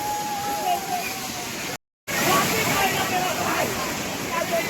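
The monsoon-swollen waterfall at Malangad rushes in a steady, full roar close by, with people talking over it and a brief dropout partway through.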